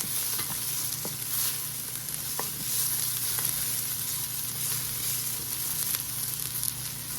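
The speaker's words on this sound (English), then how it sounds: "Sauteing a half an onion." Half an onion sautéing on sear mode in an Instant Pot air fryer, giving a steady, close sizzle with occasional scraping stir clicks throughout, no voices.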